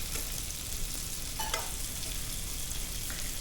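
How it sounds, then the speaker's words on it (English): Shrimp sizzle in a hot pan for a pasta dish: an even, close frying hiss with a brief clatter midway and no voices. "Then we're going to add our shrimp."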